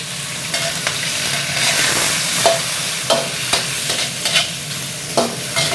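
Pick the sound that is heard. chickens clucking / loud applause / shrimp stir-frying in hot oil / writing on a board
shrimp stir-frying in hot oil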